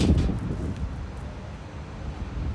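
Steady low rumbling wind buffeting the microphone, continuous and fairly loud throughout with no talk.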